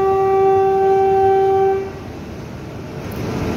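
The Sairang Express, bound for Mizoram from Kolkata, blasts its horn in one loud, sustained note for about two seconds as it departs. A low rumble of the train continues after the horn stops.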